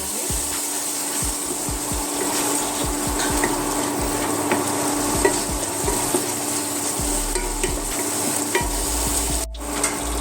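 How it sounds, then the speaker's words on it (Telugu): Garam masala and turmeric are stirred and fried in a pan for a dhaba-style egg curry: a continuous close sizzle with repeated scraping strokes of a spoon throughout. "1/2 స్పూన్ గరం మసాలా, 1/2 స్పూన్ పసుపు వేసి ఒకసారి మిక్స్ చేసుకున్నాను."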